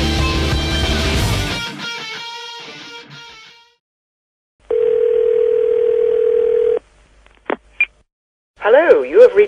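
A steady telephone dial tone hums for about two seconds after music cuts out, followed by brief beeps and a short warbling electronic tone, loud and close with no speech over it.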